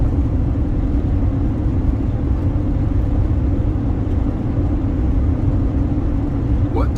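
A car drives down a road just west of Delano near the Kern National Wildlife Refuge, giving a steady, close, low rumble of engine and road noise that stays even from start to finish.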